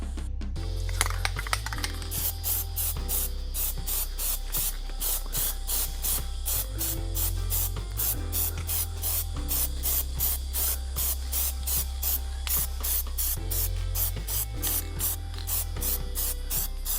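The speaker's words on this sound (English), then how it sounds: "we can spray it with the plastic" Repeated bursts of plastic coating hiss from a spray can, steady near hiss in short regular passes with brief gaps, alone without talk.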